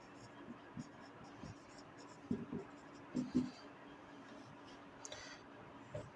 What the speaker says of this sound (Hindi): मैं यहीं पर लिख देता हूँ